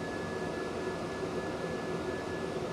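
Steady broadband whoosh of a water-cooled computer's cooling fans blowing air, with a faint constant whine on top, continuous and unchanging throughout.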